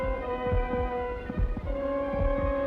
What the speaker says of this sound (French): le bruit des battements de cœur de sa victime